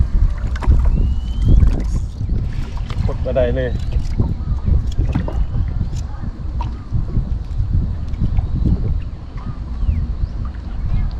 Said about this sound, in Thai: ลมพัดลมพัด